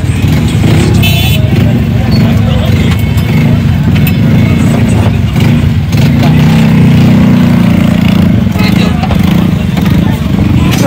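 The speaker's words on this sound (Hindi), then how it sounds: "ये इंजन कंडीशन है, आप इसको स्टार्ट करो जरा जी" A used Suzuki pickup engine runs at a steady idle close by, a loud continuous low rumble with a busy outdoor market around it and intermittent voices over it.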